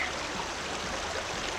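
River water rushing over rocks at Hillsborough River State Park in Florida, a dense, steady stream sound, close and continuous, with no voices.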